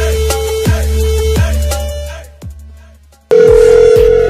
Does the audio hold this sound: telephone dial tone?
yes